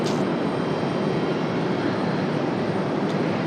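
A Frontier Airbus A321neo arrives at Raleigh-Durham from San Juan, heard as a continuous, fairly loud jet rumble and hiss that stays level for the whole stretch, with no talking.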